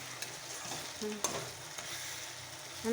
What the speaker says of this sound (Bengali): দেখি কেমন কষাচ্ছি